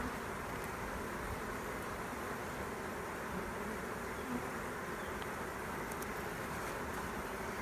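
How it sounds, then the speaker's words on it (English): Dense, continuous buzzing of many honey bees swarming around an open hive in a warm apiary, steady and close throughout. "The bees are really out exercising today."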